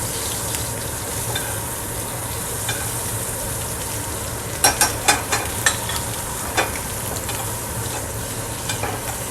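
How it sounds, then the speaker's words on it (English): Shrimp frying in hot oil, a constant loud sizzle with a low hum underneath and a brief cluster of quick clattering stirs midway, then a few scattered knocks. "So this hot oil is just going to keep everything nice and crispy. And the shrimp cooks up quick"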